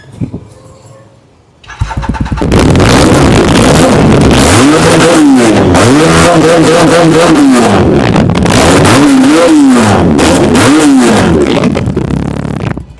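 An EFI motorbike engine revs hard in an open outdoor area after a quiet start, climbing repeatedly against its rev limiter in loud, wavering bursts that rise and fall several times, close and dominant throughout.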